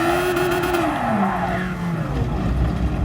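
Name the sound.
race car at full throttle on Fuji circuit in racing game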